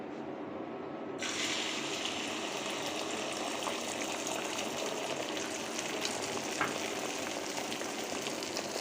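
An egg fries in a pan with a continuous crackling sizzle that jumps in loudness after the first second and then holds steady, close and alone.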